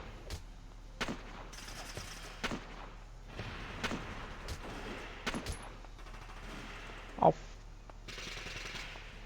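Bursts of automatic intercept gunfire from the video game Valkyria Chronicles, sharp repeated volleys and thuds scattered across a steady game backdrop, with one louder crack near the end.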